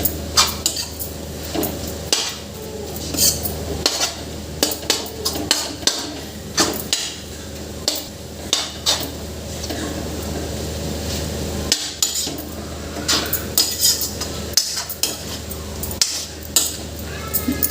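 A spoon scrapes and clinks against a pot while boiled masoor lentils and amaranth greens are stirred together, irregular metallic knocks and scrapes repeating over a steady background hum.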